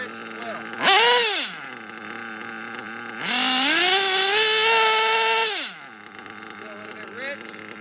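A small nitro RC engine being tuned revs up in two sharp rising whines, one short and one sustained, with a quieter idle putter between them and afterward.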